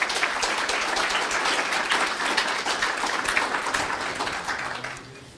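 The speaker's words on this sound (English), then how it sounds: "Round of applause for Tobias." Conference audience applause at a digital preservation event, steady and fairly loud throughout, tapering off at the very end with no voices over it.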